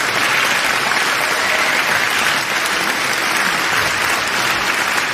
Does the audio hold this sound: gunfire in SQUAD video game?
no